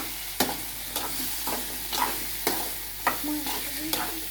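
Potato pieces fry in a pan for aloo fry, with a steady soft sizzle and a spoon scraping and stirring in a regular rhythm roughly twice a second, close and without talking.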